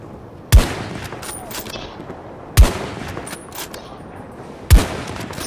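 Three sharp, booming long-range rifle shots from the shooter Battlefield 2042, spaced about two seconds apart, each with a short echoing tail, over a steady background of game ambience.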